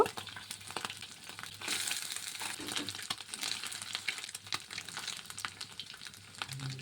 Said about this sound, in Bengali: মাছগুলোকে সুন্দর করে ভেজে নেব, একটু কড়া কড়া করে ভাজবো।